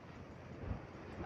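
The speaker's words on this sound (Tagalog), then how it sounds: "Taas ng hangin guys." Strong wind gusts over a mountain summit roar steadily against the microphone, a broad, rough rush with a brief heavier buffet near the middle.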